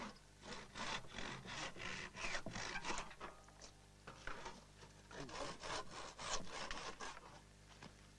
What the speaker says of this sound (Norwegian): Først nå blir de utstikkende kileendene saget av.